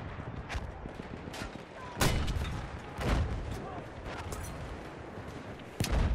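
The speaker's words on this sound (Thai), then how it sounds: "ปกติค่ะหมอท่ามันจะยิงได้แค่5ลูกไงแล้วมันก็จะหมด" Mortar shells fired in Battlefield 1 during a Conquest match, several heavy booming launches spaced a second or so apart over a constant gunfire and battle din, with a few sharp closer shots among them.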